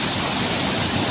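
Flood water on Remedios Taft Avenue makes a brief, loud and continuous rushing wash.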